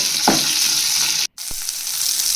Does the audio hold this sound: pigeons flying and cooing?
no